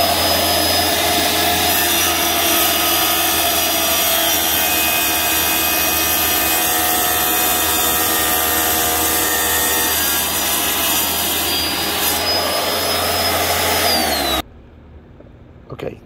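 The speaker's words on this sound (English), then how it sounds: "this is the tile I just cut" A power saw cuts a taped, fragile natural stone tile for a fireplace surround, a loud continuous grinding whine that runs steadily for about fourteen seconds before cutting off abruptly.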